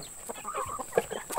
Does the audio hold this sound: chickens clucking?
yes